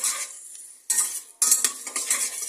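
Onions fry in oil in a pan while a utensil stirs them, giving short bursts of sizzle and metallic scraping with brief quiet gaps between strokes, close up and without voices.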